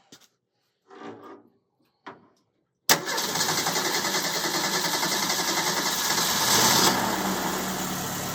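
A 1929 Ford Model A Roadster Pickup engine cranks and catches after a few quiet thuds, then settles into a loud, steady idle up close that rises slightly before easing back.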